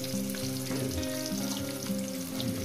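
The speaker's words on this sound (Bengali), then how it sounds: "মিনিমাম 3-4 মিনিট আমি পেঁয়াজটাকে ভেজে নেব" Chopped onions fry in a pan for a chicken kosha, giving a steady close sizzle and crackle with occasional stirring and no pauses.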